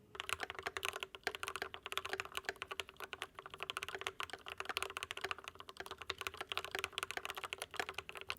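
Steady, rapid typing on a custom mechanical keyboard, crisp clacky keystrokes in a continuous rhythm, close and fairly quiet, no voices.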